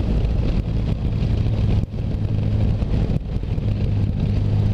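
A Triumph Rocket motorcycle engine drones at low revs in a high gear while riding, a steady loud rumble mixed with rushing wind noise, with no talking.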